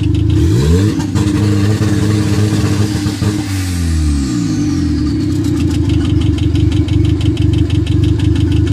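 A turbocharged Honda engine on a Speeduino controller, running with timing retarded to minus 15 degrees and 30 percent extra fuel, roars loudly and continuously, its revs sweeping up and down early on before settling into a steady, rough drone.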